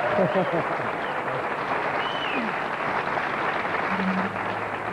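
Sustained applause from a bowling tournament crowd at the 1982 Columbia 300 Open, a steady dense wash of clapping that fills the whole stretch, with a voice faintly audible underneath at the start.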